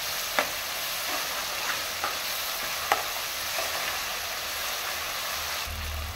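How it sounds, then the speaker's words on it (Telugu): Ginger-garlic paste sizzles steadily in hot oil in a pan while being stirred, giving a constant close hiss with a few soft scraping taps of the spoon and no talking. "ఇప్పుడు దీంట్లో కొద్దిగా అల్లం వెల్లుల్లి పేస్ట్ వేసుకొని మంచిగా పచ్చివాసన పోయే వరకు ఫ్రై చేసుకోవాలి పేస్ట్ని."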